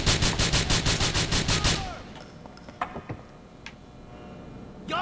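Gunfire in GTA IV, a rapid burst of about a dozen evenly spaced shots opening loud and close, then a few scattered single cracks and faint sounds after it.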